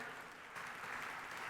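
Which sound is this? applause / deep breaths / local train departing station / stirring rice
applause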